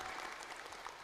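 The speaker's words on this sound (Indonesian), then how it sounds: "Beri tepuk tangan untuk kita semua." A brief burst of audience clapping at a gathering in Tolitoli, dense and continuous for about a second, fairly soft.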